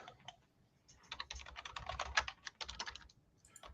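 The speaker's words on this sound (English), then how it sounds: "Typing." Typing on a computer keyboard, a quick uneven run of light clicking keystrokes that starts sparse, thickens into a dense burst and then tapers off, heard close and fairly quiet.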